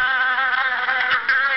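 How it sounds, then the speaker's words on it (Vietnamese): A cartoon mosquito buzzes in a close, loud, continuous whine that wavers slightly in pitch. "Con nhất định phải bắt được con muỗi đó."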